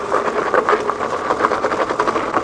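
A Tesway X7 AWD 3600W dual-motor electric scooter climbs a slope, its motors giving a loud, close, steady whirring buzz with a slight pulsing rhythm throughout.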